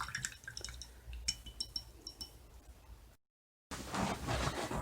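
Glow paint stirred into a glass of water, light clinks and liquid swirling at close range, followed by a brief silence and then a burst of louder wash-like noise.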